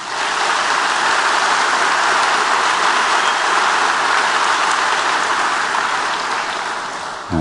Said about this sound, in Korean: 이렇게 훌륭하게 찬양하신 교수님께 우리 한번 박수를 쳐드립시다